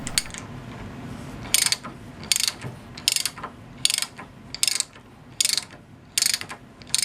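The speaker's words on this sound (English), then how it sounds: "push the plug through to reverse the ratchet action" A Walden Worcester No. 916 1/2" drive socket wrench ratchets in short bursts, about eight crisp clicking runs evenly spaced, close and clear with quiet gaps between.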